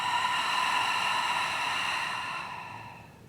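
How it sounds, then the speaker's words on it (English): A slow, steady exhale of breath during a breathing exercise, a soft airy hiss close up that fades out toward the end, heard alone. "And exhale."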